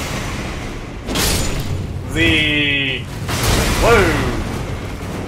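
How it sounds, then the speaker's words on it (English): An exploding jar enemy in Elden Ring's jar-filled dungeon gives off booming bursts with a ringing tonal whine, heard twice over a steady game background, while a voice exclaims briefly during the blasts. "The ones who don't have a red lid, they are the ones that explode."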